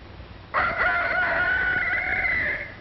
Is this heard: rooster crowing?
yes